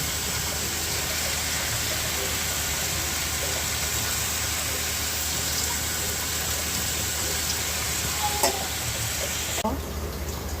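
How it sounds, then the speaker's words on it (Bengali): An oat pancake fries in a little ghee in a pan, giving a soft, steady sizzle that runs evenly throughout before cutting off near the end. "এই দুটোকে একটুখানি মিশিয়ে একটু সামান্য ঘি দিয়ে প্যানকেক মতন করে দেবো"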